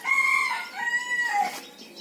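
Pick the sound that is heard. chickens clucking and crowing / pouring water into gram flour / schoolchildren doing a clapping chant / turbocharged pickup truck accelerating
chickens clucking and crowing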